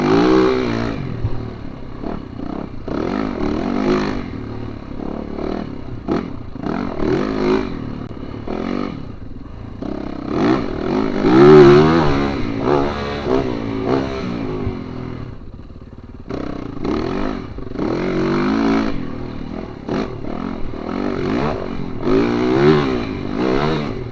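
A motorcycle on the Cedar Creek trail revs its throttle hard, rising and falling in bursts for the whole stretch with close, loud engine roar and some clatter from the bike over the ground.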